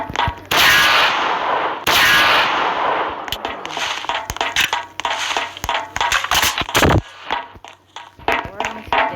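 Two loud, booming sniper rifle shots ring out in a video game, followed by a rapid run of sharper cracks and clanks at close range.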